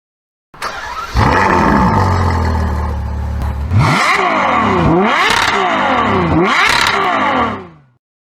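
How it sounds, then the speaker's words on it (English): A Ferrari sports car engine roars up loudly, then revs hard three times in quick succession, each rev climbing and falling, before cutting off. "Ferrari has some very iconic sound like this"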